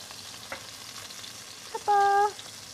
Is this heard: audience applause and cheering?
no